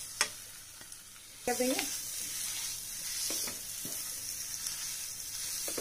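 Mashed boiled potato and masala fry in a pan on low flame, giving a soft sizzle with a few scraping stirs and a brief spoken phrase near the start.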